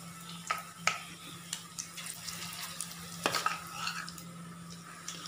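Chicken pieces for chicken 65 drop into hot oil and are stirred as they fry, a continuous close sizzle broken by repeated utensil scrapes and light clatter, with no talking.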